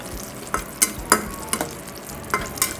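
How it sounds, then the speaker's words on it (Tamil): Cashew nuts frying slowly in ghee for ash gourd kasi halwa, heard as a soft low sizzle broken by several distinct scraping stirs of a spoon against the pan at irregular intervals. "போட்டு நல்லா கோல்டன் ப்ரௌன் கலர் வர்ற வரைக்கும் பொறுமையாக அதை வறுக்கணும்."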